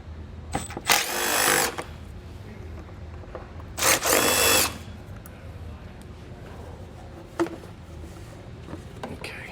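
A power tool works loose the 13mm bolts on a 2014 Volkswagen Jetta during a base plate installation, giving two short, loud bursts of whirring about a second each, followed by quieter clicks and handling noises.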